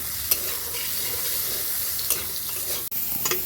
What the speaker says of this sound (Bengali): হলুদ দিয়ে সোয়াবিনটা ভেজে নেব।